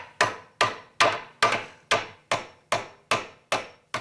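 A hammer drives a nail into timber with no lead hole, landing ten sharp, evenly spaced blows about every half second, each a crisp close knock with a short ringing decay.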